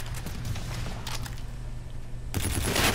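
A player's gun firing in Call of Duty: Infinite Warfare: short bursts of shots over a constant low rumble, with a brief burst early, another around the middle, and a louder close volley at the end.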